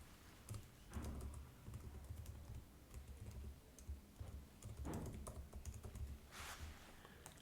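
A name and email address are typed on a computer keyboard: faint, close key clicks in quick irregular bursts with short pauses between.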